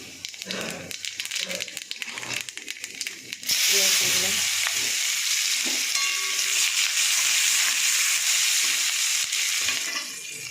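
Black cumin seeds hit hot oil and burst into a loud, steady sizzle after a few seconds of quieter clattering, the frying hiss staying strong and continuous close up.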